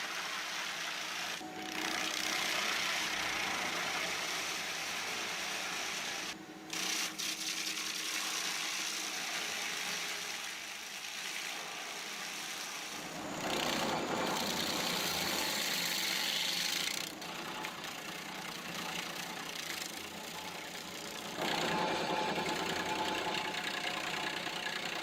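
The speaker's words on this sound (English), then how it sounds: "The grinder lowers onto the old stump, its blade spinning with relentless force." A stump grinder shreds an old tree stump, its engine running steadily while the grinding noise surges louder and harsher in several passes.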